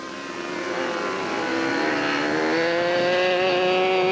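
Small model airplane engine droning as the aircraft flies close in at slow speed; a continuous buzzing whine that steadily grows louder and rises slightly in pitch, with no talk.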